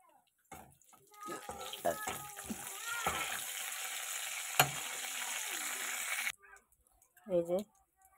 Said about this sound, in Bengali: ফোড়নটা ভালো মতো একটু ভাজা হোক।